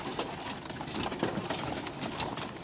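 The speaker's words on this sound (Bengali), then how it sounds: "এই হলো আমার কবুতর।" Pet pigeons cooing in a loft, soft repeated coos against a busy background of fluttering and shuffling, fairly close and continuous.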